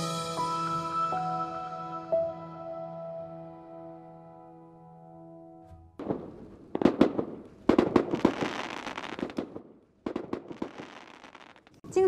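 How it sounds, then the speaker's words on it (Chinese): Fireworks set off outdoors during a Mid-Autumn Festival night, with a run of sharp crackling bursts and pops in close succession after a stretch of steady tonal hum, loud and near. "然后按捺不住激动的心情就开始放烟花"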